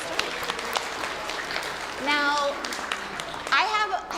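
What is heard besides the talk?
audience clapping for a story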